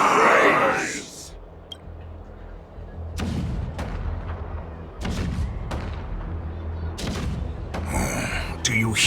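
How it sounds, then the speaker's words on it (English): Cannon fire rumbles in a Honkai: Star Rail battle scene, a series of booming low blasts and sharp reports spread across the clip, loud and close, with music or game ambience underneath. "The rumble of the cannons."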